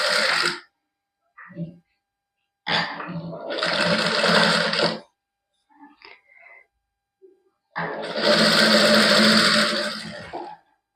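An electric sewing machine stitching a dress neckline runs in three loud bursts, the longest near the end, separated by pauses with faint handling sounds and brief fabric adjustments.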